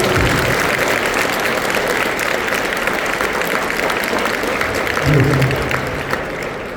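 Students at a motivational training session applaud steadily throughout, a dense wash of handclaps filling a school hall, with a brief spoken voice near the end.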